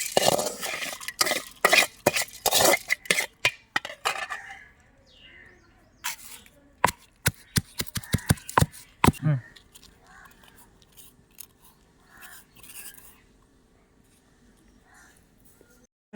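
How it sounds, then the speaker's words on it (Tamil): Roasted chillies, coriander and curry leaves are pounded for a village-style crab gravy: a run of sharp, loud rhythmic thuds, then sparser knocks, with quiet talk underneath. "நம்ம வந்து வறுத்து வச்ச மிளகாய், கொத்தமல்லி, கறிவேப்பிலை இது எல்லாத்தையும் போட்டு இடிச்சுக்கலாம்"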